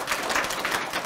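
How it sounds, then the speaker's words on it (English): Audience applause at a school art prize ceremony for design award recipients, a steady wash of many hands clapping filling the whole short moment without pause. "Lots of clapping tonight."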